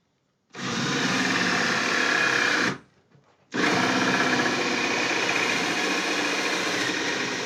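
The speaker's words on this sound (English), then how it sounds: "We can use a hand drill for this." A hand drill bores into a guitar body in a luthier's workshop, a steady loud whine that runs for about two seconds, stops briefly, then resumes and holds steady to the end.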